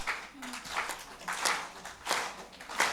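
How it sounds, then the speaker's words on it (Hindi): Audience applause at a Hindi comic poetry festival, with rhythmic clapping that swells and fades in repeated waves, moderately distant, alone without talk. "तालियां बिल्कुल जोर से झूम के बजाइए।"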